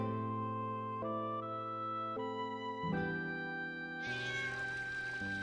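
A cat meows in the video game Final Fantasy 9, with several clear, tonal meows in sequence over soft game music, and a brighter, noisier meow near the end.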